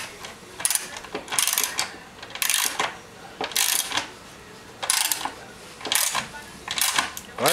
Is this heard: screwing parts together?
yes